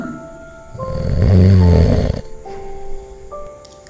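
A bear snores in a children's story, one long swelling snore that builds and fades over a couple of seconds, with soft background tones before and after.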